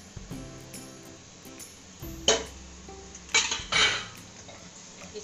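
A spoon stirs and scrapes through kasuri methi roasting with golden-brown fried onions in a metal pan: soft scraping, then several sharp clinks and clatters of utensil against the pan.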